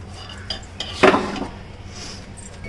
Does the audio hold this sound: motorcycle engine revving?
no